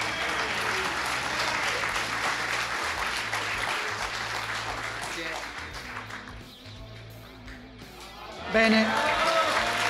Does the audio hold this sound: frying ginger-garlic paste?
no